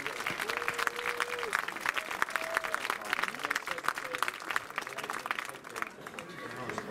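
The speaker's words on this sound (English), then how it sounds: "Let's give all of our candidates a round of applause." Crowd applause for homecoming candidates at a varsity football game, steady clapping from the stands throughout with occasional whistles and voices mixed in, fairly distant and diffuse.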